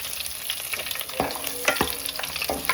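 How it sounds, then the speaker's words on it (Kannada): Garlic and curry leaves fry in hot oil in a pan, a dense continuous sizzle close by, broken by a few sharp stirring scrapes and crackles. "ಒಂಜಿ 2-3 ಬೆಳ್ಳುಳ್ಳಿ ಪಾಡ್ದು ಐಡ್ದೊಕ್ಕ ಬೇವ್ರದ ಸೊಪ್ಪನ್ನು ಪಾಡಿಯ"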